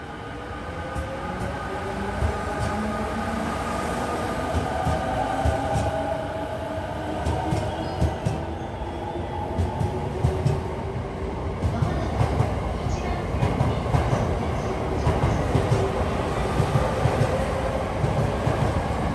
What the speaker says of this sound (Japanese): ここで次の列車に乗り換えるため列車のお見送りをします